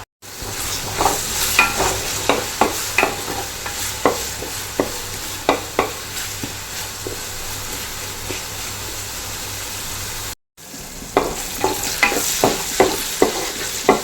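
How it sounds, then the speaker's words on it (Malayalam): Onions, tomatoes and green chillies sautéing in a pan for a Kerala-style fish head curry, with steady sizzling and regular spoon scrapes as the mix is stirred, close and continuous, briefly cut off before resuming. "നല്ലപോലെ മിക്സ് ചെയ്ത് കൊടുക്കും നല്ലപോലെ ഒന്ന് വാടി വരട്ടെ"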